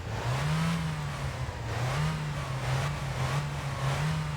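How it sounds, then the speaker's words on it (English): A car engine revs in the winter driving game My Winter Car, rising and falling in repeated waves of mid-pitched drone. It stays steady and close, with no talk over it. "let me just rev the car"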